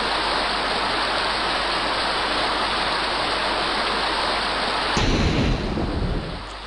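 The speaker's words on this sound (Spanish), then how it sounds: "no parece que la tormenta vaya a parar en un buen rato" Thunderstorm with rain in the horror video game Lullaby, set in a mansion: a dense, loud, continuous hiss of heavy rain with a deep rumble, then a sudden thunder crack and roll near the end, with no talking.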